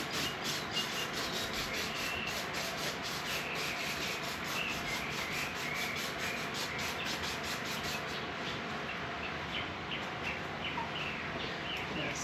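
Cloth or rag wiping excess oil off the cylinder head of a 1997 Mazda Miata during a valve cover gasket replacement, a steady close rubbing scrub with repeated strokes continuing throughout.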